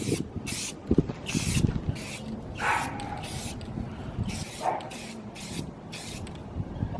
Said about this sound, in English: Now we're going to apply at least 4 light coats, and these should be about 5 minutes apart.